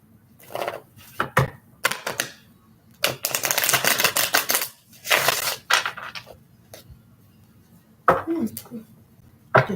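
Tarot cards are shuffled up close in quick papery bursts, a few short riffles followed by two longer runs, separated by pauses.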